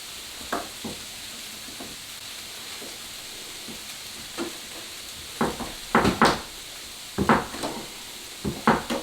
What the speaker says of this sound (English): And I might as well throw in the capsicums as well.